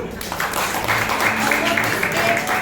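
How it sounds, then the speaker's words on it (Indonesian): A church congregation at a Sunday service breaks into applause, a loud sustained wash of many clapping hands with a preacher's voice and crowd murmur mixed in. "Kasih tepuk tangan dulu."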